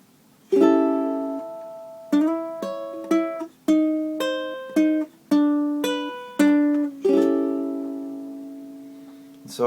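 Ukulele fingerpicking a blues pattern at a quicker pace, clear plucked notes in several phrases with ringing chords, played alone and close.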